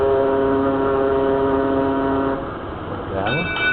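A ship's horn from the Poseidon Virtual Console marine simulator sounds as a long steady blast, then after a short gap a second higher horn tone begins, loud and close.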